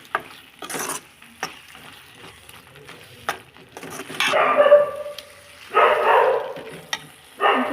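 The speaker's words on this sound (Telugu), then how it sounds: "కలిపేసుకుందాం." Prawn curry with chili powder and coriander powder being stirred in a pan, giving bursts of scraping and sizzling that come and go in several loud patches, with quieter sputtering between them.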